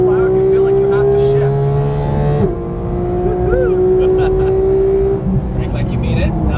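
A Porsche 911 GT engine roars loudly on a Las Vegas race track, revving with steady rising and falling pitch, shifting midway, while a voice talks over the engine.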